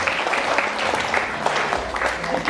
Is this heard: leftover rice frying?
no